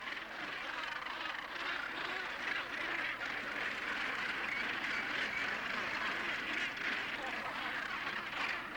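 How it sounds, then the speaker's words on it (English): A dense gannet colony of around 60,000 birds calls continuously at its nesting site, a loud, unbroken wash of harsh overlapping cries with a steady roar beneath, heard close and filling the whole stretch. "While they're flying in, they'll call, and the one that's sitting on the nesting site will answer."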